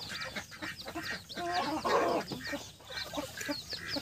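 Hungry farmyard chickens near a hut cluck and chatter steadily at a modest distance, with a louder burst of calls in the middle against a noisy outdoor background.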